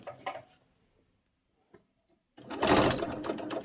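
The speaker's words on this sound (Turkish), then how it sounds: "Bir makine ayağıyla dikiyorum." A household sewing machine stitches a fabric table runner, starting after a quiet pause with a loud, steady mechanical whir and rapid needle clatter, close up and alone.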